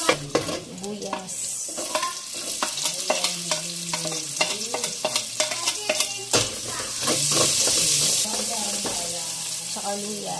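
Onions sizzling in a frying pan while a utensil stirs and scrapes them, close rhythmic knocks over a steady hiss that grows louder toward the end, with a voice speaking briefly.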